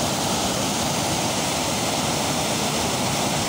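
Loud, continuous roar of water rushing over a spillway near Gingoog City, a dense unbroken wash of noise with no pauses or voices.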